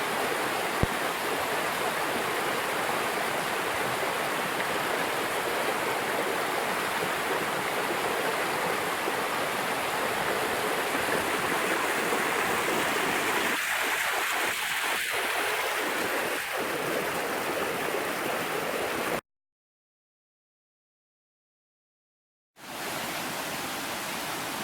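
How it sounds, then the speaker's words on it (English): Buck Creek Falls in Pisgah National Forest, North Carolina, swollen by rain, roars as a loud, steady broadband rush throughout, cut off by a few seconds of silence before resuming. "This is Buck Creek Falls, named after the creek."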